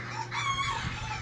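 Chickens and a rooster at a snow-covered farm chicken coop, with continuous clucking and crowing-like calls filling the short stretch at steady volume, no talk.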